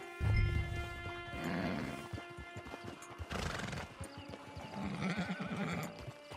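A horse whinnies loudly in Red Dead Online, then hooves clip-clop in an uneven rhythm with a second whinny partway through, all close and clear with no talking.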